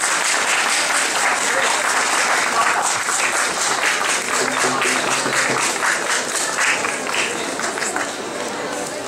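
Audience applauding steadily at a traditional welcome ceremony with the ritual bread in Șimleu, with dense clapping sustained throughout at close, loud level and faint voices underneath.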